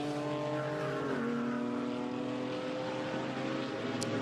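A GT4 race car accelerates hard out of the Zandvoort turn 12 left-hander, its engine note rising steadily and loudly. The drone is constant and broad, with a second car close behind and a faint click near the end.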